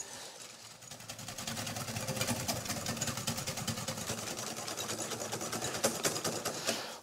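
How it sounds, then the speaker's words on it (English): Egg yolks being whisked with caster sugar, likely by an electric hand whisk, give a steady continuous buzzing whir that runs close and loud through the whole stretch, with no talking. "In here I've got my egg yolks, and I'm going to add some caster sugar. And I'm going to whisk this up and get it nice and light."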